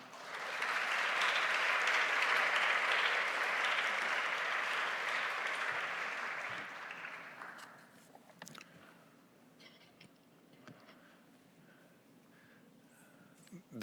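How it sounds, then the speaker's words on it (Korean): A church congregation at a youth Sunday service warmly applauds as the pastor comes up, a broad, even clapping that holds steady and then fades away, leaving a quiet room with faint shuffling. "동안의 따뜻한 박수로 환영하도록 하겠습니다"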